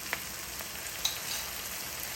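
Chopped garlic sizzling in a pan, a soft steady frying hiss with a couple of faint clicks, quiet and alone without any talking.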